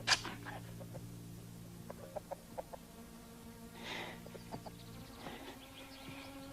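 A rooster on a farm clucks and crows in short bursts, a series of sharp calls followed by a brief raspy crow, fairly close against a quiet, faintly humming background in a horror film.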